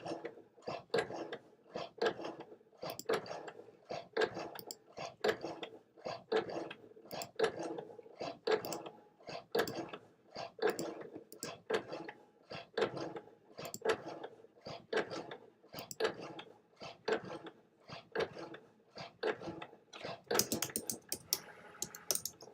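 A cutting machine recuts a felt magnolia flower piece with a rotary blade, producing a fast, irregular run of soft mechanical clicks and ticks that continues throughout at a faint, fairly distant level.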